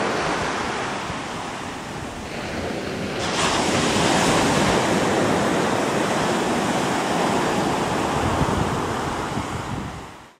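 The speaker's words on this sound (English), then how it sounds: "He likes the sound of the water." Ocean surf washes in continuously at close range, a loud broadband roar of waves with some wind noise on the microphone and no talking.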